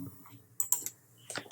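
Several quick clicks of typing on a computer keyboard, quiet and close, in two short bursts with a pause between.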